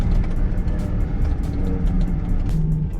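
Chevrolet Silverado 4x4 street truck in four-wheel drive, its drivetrain giving off a steady loud droning rumble with a faint whine, like a worn wheel bearing, continuous throughout with no talking.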